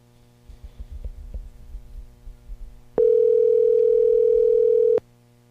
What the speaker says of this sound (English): There's 3 rings.